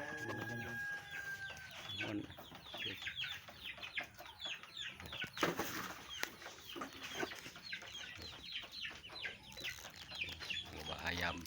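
Farm chickens cluck and a rooster crows faintly in the distance, scattered calls repeating throughout, with people talking over them.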